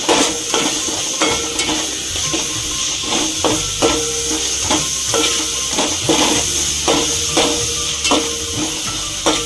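Chopped onion with a bay leaf sautéing in four spoons of hot oil in a pan, a steady close sizzle and hiss broken by regular scrapes and stirs of a spoon against the metal, with no talk.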